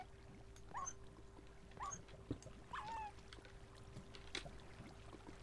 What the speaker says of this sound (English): My dog on fire.